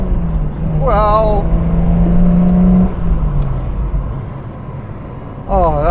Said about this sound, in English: It is a Morris Minor that's got a six-cylinder engine crammed into it.